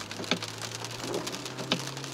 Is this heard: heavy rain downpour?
yes